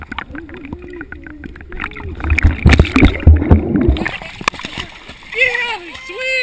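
Boomer the dog swims for the first time, paddling and splashing close by in churning water, with a person talking and encouraging him over the sloshing.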